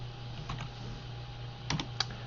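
A few quiet computer keyboard keystrokes while entering commands in Rhino 3D modeling software: isolated clicks, then a quick pair, over a steady low hum.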